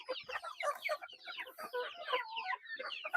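Darag native chickens cluck busily in a close, lively chorus, with overlapping calls running steadily throughout and no talk.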